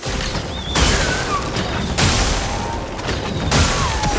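The Sacapatat Explosion attack in the game Clair Obscur: Expedition 33 lands as a series of booming blasts. Three loud bursts, evenly spaced, break over dense, roaring noise with sweeping whistles between them.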